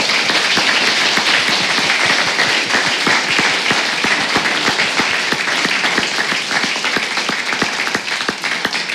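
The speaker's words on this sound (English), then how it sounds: "A truly well-deserved round of applause" Sustained audience applause at a live event for the Total War: ARENA alpha, dense, even clapping that stays loud and unbroken for the whole stretch with no voices over it.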